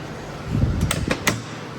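Door on a Can-Am X3 side-by-side with newly trimmed roof tubes swinging shut and latching: a few sharp, close clicks and knocks in quick succession over a low background rumble.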